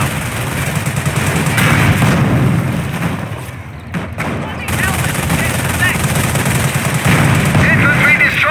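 A German Panzer tank fires in a Company of Heroes battle, its heavy shots lost among dense, continuous gunfire and booms. A short lull falls midway before the loud shooting resumes.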